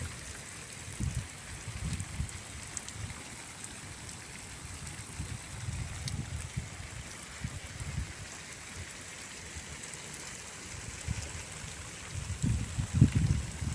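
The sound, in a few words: heavy flowing rainwater during village storm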